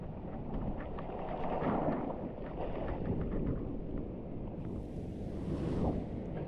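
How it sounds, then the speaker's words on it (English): Ocean surf at night on a Portuguese coast, a steady low wash of breaking waves with wind rumble across the microphone, swelling slightly twice, no voices. "The waves are amazing even at night."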